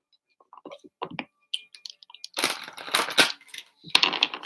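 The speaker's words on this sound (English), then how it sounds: "allowing the energy to clear while I shuffle the cards" Tarot cards shuffled by hand, giving faint, irregular papery clicks and riffles that swell into denser bursts of card flutter close by, with no talking.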